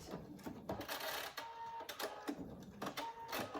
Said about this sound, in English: And then I'm going to back stitch just to secure it.